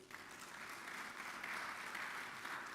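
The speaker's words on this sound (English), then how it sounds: "Can we give them a round of applause, please?" Sustained applause from a graduation audience at an executive education ceremony in Lagos, a dense, steady clapping that fills the whole moment without breaks.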